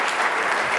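Dense, loud applause from a football studio audience, steady and continuous throughout the short burst with no voices standing out.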